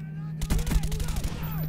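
Rapid bursts of AK assault rifle fire in Black Ops 1, a loud, close volley of several shots over about a second, ending in a ringing tail.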